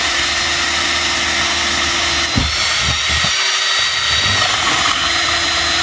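An electric drill with a 2.5mm bit runs loud and steady while making a hole for LED light construction, with the motor pitch briefly dipping and stuttering midway before resuming.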